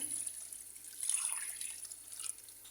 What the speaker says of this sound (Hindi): यहाँ पर हम पानी शामिल करेंगे, 3 गिलास पानी शामिल करूँगी यहाँ पर मैं